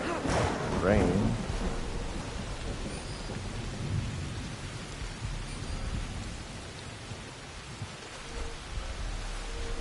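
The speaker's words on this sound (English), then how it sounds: "Rain." Steady rain hisses with a low thunder rumble in the video game Assassin's Creed Shadows, while a voice speaks briefly near the start over the wash of the downpour.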